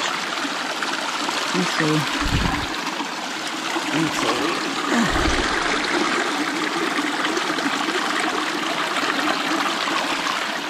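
Stream water trickles and pours steadily while drinking water is collected on the Appalachian Trail in Virginia, a loud, constant wash close by, with someone talking briefly over it.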